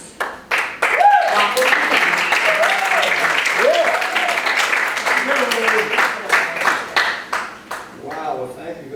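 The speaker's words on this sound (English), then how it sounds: "thank you very much for that applause" Audience applause at a small coffee house performance, a crowd of hands clapping through the middle of the clip while someone speaks over it, the clapping thinning to scattered claps at the end.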